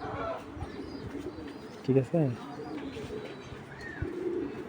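A racing pigeon lets out a short pair of guttural coos near the middle, close by, while someone talks over a quiet room background.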